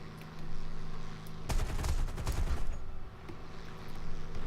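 In the aircraft combat game War Thunder, a Yak-9K fighter's guns fire in a loud, dense burst of rapid shots lasting over a second. Quieter engine drone runs before and after the burst.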